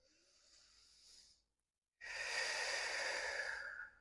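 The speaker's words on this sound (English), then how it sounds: "taking a deep breath in and out" A slow deep breath, a softer inhale followed by a brief pause and then a longer, louder exhale, close and clear during a quiet yoga practice.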